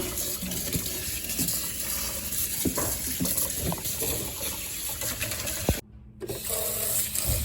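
Steady tap water runs into a sink while a cold-press juicer is rinsed out after pressing burdock root and pear, a continuous broadband wash with small clatters of parts and a brief drop-out near the end.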